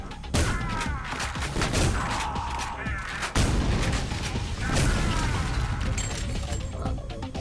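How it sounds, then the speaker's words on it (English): In the shooter game Ion Maiden, a wall blows apart amid gunfire, loud bursts of rapid shots and booming explosions crashing in waves, with a heavy blast around the midpoint. "Back wall blowing up there."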